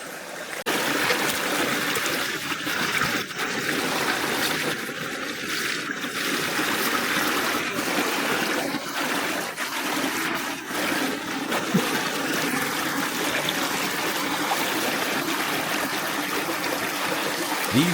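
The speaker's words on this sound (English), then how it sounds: "It takes the whole team to spot and trap them in the fast-moving water." Fast-moving stream water in a tropical Vietnamese rainforest at night, a steady full-band rush and trickle that stays loud and continuous throughout, with no voices.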